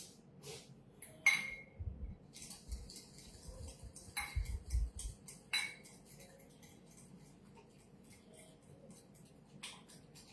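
A spoon mixing hung curd in a bowl, heard as a few sharp clinks and scrapes of metal against the bowl, the busiest stretch in the first half, then quieter with faint occasional taps.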